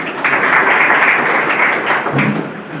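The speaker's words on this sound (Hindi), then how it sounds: "आपका स्वागत करिए, आप लोग ताली बजाते" A crowd applauds continuously, dense clapping filling a room for a few seconds before tapering slightly at the end.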